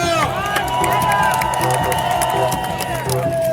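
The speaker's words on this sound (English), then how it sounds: "Cheer for your gladiators!" An arena crowd at a gladiator show in Pula roars and cheers continuously, a loud dense wall of voices with whistles and shouts layered over steady noise.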